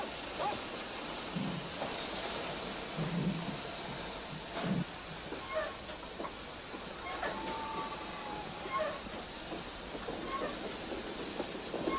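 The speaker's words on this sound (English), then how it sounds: "from all over Nazi Europe, the wheels of the death trains roll" Wartime archive train rolling through Nazi-occupied Holland, a steady hiss of wheels and rail noise running throughout at moderate level, with faint intermittent clicks over a constant broadband wash.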